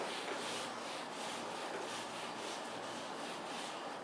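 Eraser or hand rubbing writing off a classroom board, a steady soft scrubbing in repeated strokes, close and fairly quiet, with no talk.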